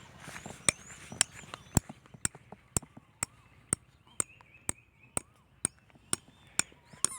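Sharp, evenly spaced knocks, about fourteen blows at a steady pace, ring out close by over a faint outdoor background as a stake is hammered into the ground in a rice field.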